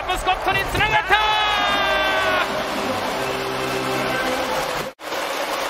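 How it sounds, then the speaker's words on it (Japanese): A packed basketball arena crowd roars and cheers as the Ibaraki Robots win a B.League game against SunRockers Shibuya, with a buzzer-like tone and loud continuous applause filling the hall while a commentator talks. "福場カピオアリーナ大歓声、大きな拍手に包まれて茨城ロボッツ勝ちました"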